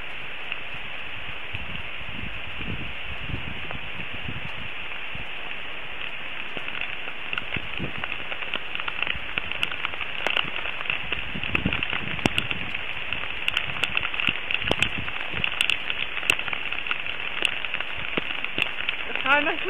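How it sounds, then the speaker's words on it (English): Rain falling on a surface outdoors, a dense continuous patter with scattered sharper drop hits that grows slightly busier toward the end, with a voice speaking faintly in the background. "It's already raining."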